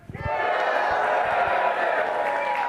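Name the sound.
live audience cheering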